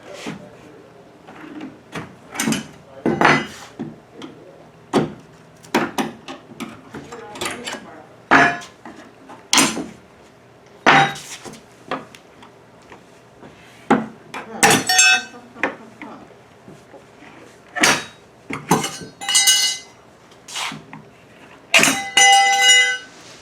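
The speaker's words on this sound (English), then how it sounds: "you need a flathead screwdriver. You're basically just going to pop off all these clamps on the sides here" A flathead screwdriver prying and popping off the side clamps of a plastic dog crate, a series of sharp clacks and snaps in irregular bursts, close and loud with quiet pauses between.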